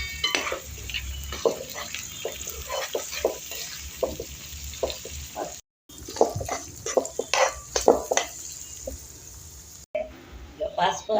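Stirring dried prawn and chana dal curry in a pot over a wood-fired stove, with repeated scraping and clinking strokes over a steady sizzle while someone talks intermittently.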